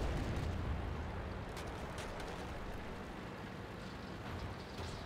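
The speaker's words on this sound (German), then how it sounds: "Ihr hört, wie das nachlädt, wie da einfach mal die Shell ins Rohr geschoben wird und wie es einfach nur rumst." Tank cannon booms in a World of Tanks battle, amid a loud, continuous broadband rumble with faint reload clatter and blasts blending into a dense, sustained roar.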